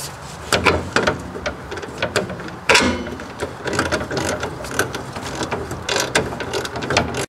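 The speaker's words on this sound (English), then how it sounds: "Taking the socket, ratchet, and extension," Socket ratchet with an extension snugging down a rear trailing arm bolt on a 2002 Mitsubishi Lancer, giving rapid runs of close, loud metallic clicks in uneven bursts with brief pauses.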